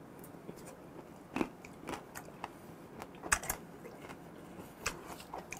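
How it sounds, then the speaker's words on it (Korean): Raw gizzard shad sashimi crunched with the front teeth while eating, a few crisp bites and chewing clicks scattered through a quiet close-up, with no talking. "처음에 앞니로 아삭 씹는 느낌이 좀 좋아요."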